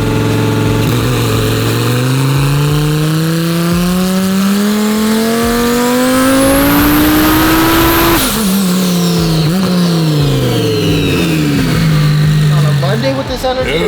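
A twin turbo Lamborghini Huracan Evo engine climbs in a long loud rising pull on a dyno, peaking around eight seconds with a high whine before dropping off, then revs again, voices faintly beneath.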